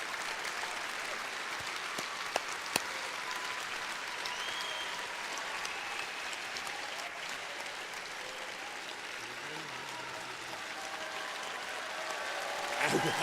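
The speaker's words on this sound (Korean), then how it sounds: "하나님과 천지인 참부모님께 우리 모두 감사의 박수를 올리지 않으시겠습니까?" An audience at a large assembly in New York gives sustained applause of thanks, a dense, even wash of clapping that continues steadily throughout.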